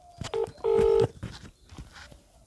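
A mobile phone dials a number for a call. Two keypad tones ring out close and clear, one short beep and then a longer one, followed by quiet handling noise.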